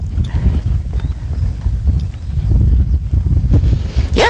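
A horse walks, its hooves clip-clopping steadily and close up through a continuous rustling, scuffing background during riding practice, with no talk over it.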